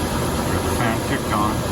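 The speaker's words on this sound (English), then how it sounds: "the fan kicked on." A Dometic RV furnace fan runs with a steady, loud whirring hum. A voice speaks over it.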